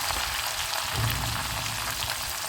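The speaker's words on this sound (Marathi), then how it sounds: "आता मी इथे कढीपत्ताही टाकला, कोथिंबीर देखील टाकली, ती पण छान तडतडती आहे बघा" Steady, close sizzling and crackling of curry leaves and coriander spluttering in hot oil, an even dense frying hiss with no voices.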